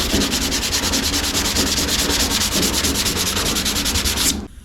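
Sandpaper rubbing back and forth across a dented car body panel, a steady rhythmic scratching of even strokes close up, continuing without pause before stopping abruptly.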